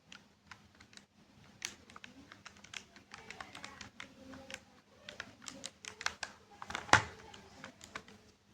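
Fingers tapping number keys on a calculator, a quiet, close series of irregular plastic taps and clicks with one louder press near the end, no talk.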